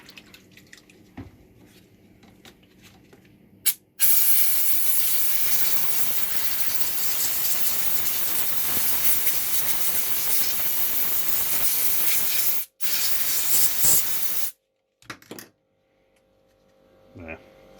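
A close, loud hissing water spray rinses an MGF Hydragas displacer for about nine seconds, briefly stops and restarts, with quieter handling noises before and after.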